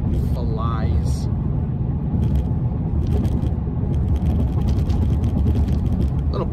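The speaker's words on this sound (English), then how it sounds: "merging onto the highway in Sport Plus here. Oh my goodness, this thing flies." A Ford Mustang GT in Sport Plus mode accelerates onto a highway, heard from inside as a loud, steady low engine and road rumble, with a person talking over it.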